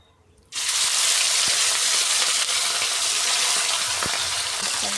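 Duck meat dropped into hot oil with a bay leaf and cumin, bursting into a loud, steady sizzle and frying hiss after a quiet start.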